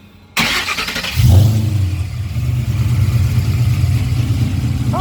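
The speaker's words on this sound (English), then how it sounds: "Oh, you can hear the cam a little bit." A 2012 Mustang GT fitted with a Cobra Jet intake revs on a dyno, the engine catching abruptly and then settling into a loud, steady, close-up roar with a lumpy cam note and no talk over it.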